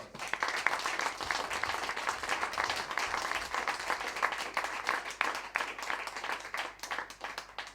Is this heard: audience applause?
yes